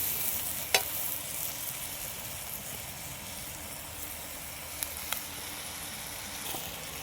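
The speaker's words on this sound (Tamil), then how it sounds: "இப்படியே வந்து நல்லா வதக்க வேண்டியதுதான்." Village-style chicken fry with dried red chillies sizzling steadily in a pan as it is sautéed, a continuous soft crackle with a few sharp clinks of a stirring utensil, no voices.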